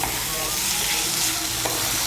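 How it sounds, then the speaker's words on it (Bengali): Potatoes fry with spices in a pan for a fish curry, giving a steady close sizzle with light stirring scrapes throughout and no talk. "আলুগুলোকে একটু ভেজে নেব মশলার সঙ্গে।"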